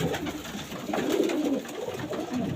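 Racing pigeons, birds raced over 100 km, coo steadily in a low, rolling murmur at close range, with overlapping throaty calls and no talk.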